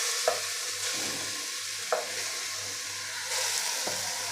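Grated raw mango stirred in a pan of hot ghee and jaggery for a muramba, a steady sizzle broken by about four sharp spoon scrapes against the pan, close and without talk.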